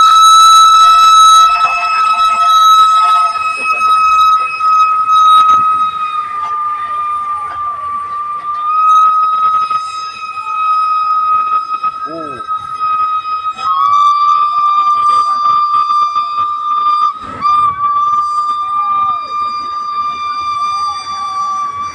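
Steam locomotive 824/850 whistles as special tourist train 901 arrives at platform 1, a loud, long sustained tone with strong harmonics that holds and wavers over faint background voices and station noise.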